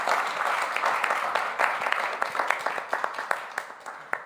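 A crowd at a COP28 loss-and-damage fund event claps together in a brisk, moderately loud round of applause, individual sharp claps standing out near the end as it thins.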